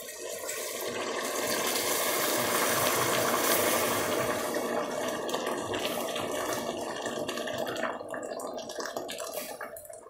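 Two liters of hot water poured into a pot of Turkish kuru fasulye bean stew with meat, a loud continuous gushing splash that swells and then gradually thins out over about ten seconds.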